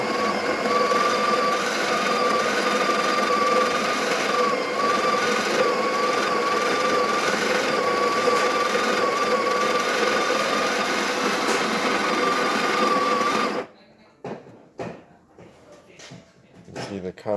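Breville Barista Express built-in burr grinder grinding coffee beans after a burr deep clean, a steady loud whirring hum for about thirteen seconds that then stops abruptly, leaving scattered clicks and handling noises.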